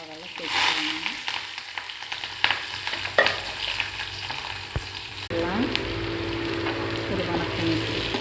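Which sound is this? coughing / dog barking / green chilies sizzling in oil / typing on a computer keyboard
green chilies sizzling in oil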